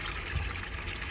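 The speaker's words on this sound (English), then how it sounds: "I can see that the water's coming through nice and easily" Tap water runs steadily from a motorhome faucet fed by an onboard pump, a continuous broadband hiss and trickle with no air sputtering, close and fairly even throughout.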